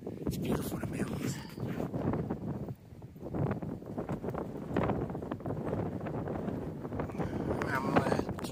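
Gusty mountain wind buffeting the microphone while a tent is being pitched, rumbling and surging unevenly, with fabric rustles and handling knocks close by.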